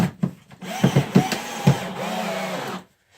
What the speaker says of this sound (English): you're gonna run these screws up tight